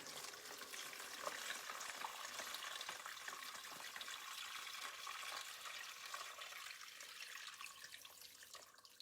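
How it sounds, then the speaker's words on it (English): Boiled red cabbage and its liquid pour into a strainer, giving a steady, continuous splashing trickle at close range that lasts throughout with no voices. "take and pour it into the strainer"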